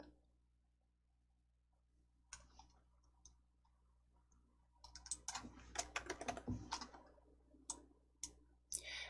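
Typing on a computer keyboard with mouse clicks at a desk: scattered single clicks at first, then a dense burst of quick, close keystrokes, fairly faint over a low steady hum.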